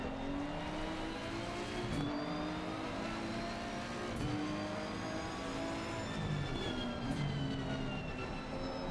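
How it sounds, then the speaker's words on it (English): The engine of a Ford Mustang race car in Assetto Corsa Competizione at Monza, a steady, fairly faint drone with rising and falling pitch through gear changes. Other cars run close by. "following behind the Mustang, which also has a very nice engine sound"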